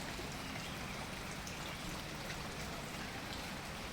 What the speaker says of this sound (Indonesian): Pagi pun awal hujan.